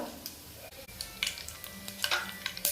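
Cumin seeds, whole spices and a bay leaf crackle and sizzle in hot oil for a spiced rice dish, a soft continuous fry punctuated by scattered pops and light stirring.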